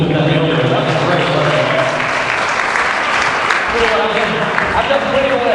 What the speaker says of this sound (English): Let's give a round of applause for the wonderful people who did that earlier